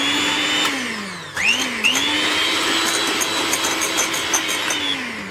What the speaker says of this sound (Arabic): وغادي نبدا نطرب بالطراب